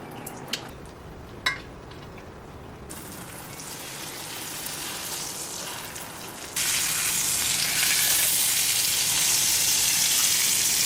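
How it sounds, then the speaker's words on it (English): Lamb chops sear in a pan of hot olive oil and butter, giving a continuous crackling sizzle that grows louder and denser partway through, with a couple of sharp pops early on and no voices. "We're going to take our lamb chops, put it in there, and sear it each side for 1 to 2 minutes"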